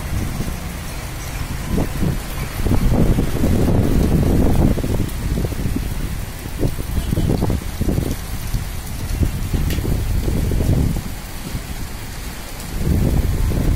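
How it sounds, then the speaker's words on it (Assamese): Steady rain patters on surfaces in Guwahati, with gusts of light wind rising and falling in low rumbling swells throughout. "বতাহও দি আছে অলপ অলপ, বৰষুণো হৈ আছে।"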